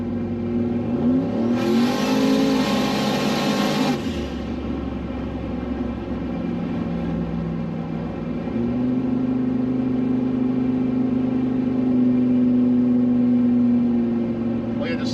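A 800 hp Chevrolet Sierra truck engine revs hard and loud during a 70 mph roll, a rising rev burst followed by a steady, droning pull, with a voice talking over the engine noise.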